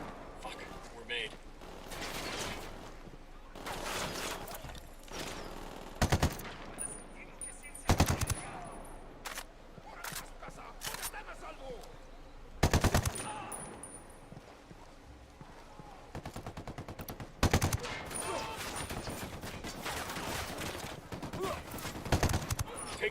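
Gunfire in a Ghost Recon Wildlands firefight: sharp, loud bursts and single shots crack out at irregular intervals over a rumbling background, with voices talking in between.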